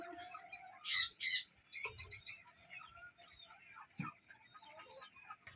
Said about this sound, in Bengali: কোয়েল